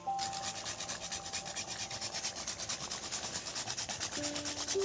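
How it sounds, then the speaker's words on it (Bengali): A spice is grated into a vegetarian Kashmiri potato curry made with new potatoes, producing a steady, close rasping rub that runs throughout, with no speech. "এইভাবে ঘষে দিয়ে দেবেন"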